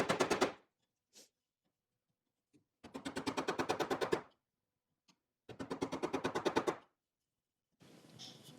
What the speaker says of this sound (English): I'm going to give it a go with the chisel first